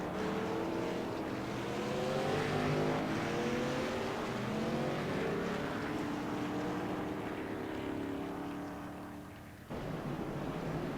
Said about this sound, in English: Here comes the choose roll, folks, as the pace car works his way by.